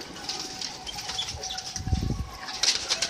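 Pigeons land on a rooftop with a few bursts of flapping wings, close and moderately loud, over outdoor background noise and soft cooing.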